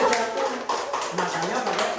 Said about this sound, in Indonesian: Tepuk tangan, Pak.